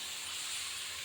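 A covered pot of rice boiling on the stove, giving off a steady, even steam hiss that runs throughout at moderate level with no voice.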